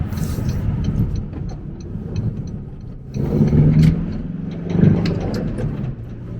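A 2016 Mercedes Vito van's engine rumbling under braking and a downshift into second gear, with low steady drone and two swells as revs rise, heard from inside the cab.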